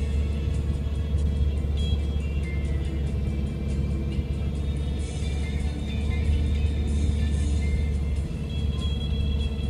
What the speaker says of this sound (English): Traffic time on the glacier?